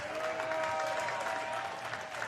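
Brief, steady applause and crowd noise from a wrestling audience in an indoor venue, a continuous wash of clapping without talk.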